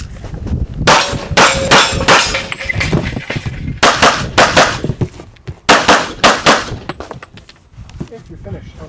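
Rapid pistol shots ring out in bursts on a USPSA practical shooting match stage, loud and close, with sharp cracks and metallic clangs from steel targets between volleys.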